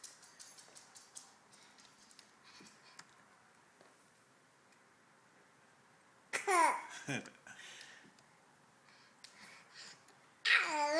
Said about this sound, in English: That's a funny laughing sneeze.